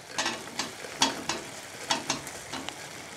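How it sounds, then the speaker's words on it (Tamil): Fried chicken pieces stirred into Manchurian sauce in a hot pan, a soft sizzle under a series of sharp, scattered scraping taps from the spoon, close and moderately quiet. "இப்போ இந்த ஸ்டேஜ்ல நம்ம ஃப்ரை பண்ணி வச்சிருக்கிற சிக்கன் பீசஸை இதல சேர்த்தறலாம்."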